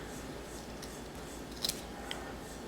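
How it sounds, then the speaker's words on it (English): Scissors cut through thick fabric to trim it into a petal shape, a couple of quick close snips in a quiet room. "It's a little hard because it's kind of thick, but here I'm going to trim it"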